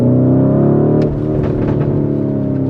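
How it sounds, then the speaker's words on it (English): Lamborghini Urus Performante engine with an Akrapovic exhaust in Sport mode, a loud, close engine drone that drops off into lift-off burbles, with a few brief pops and crackles. "we get a little more engine noise in Sport, a little bit of pops and crackles"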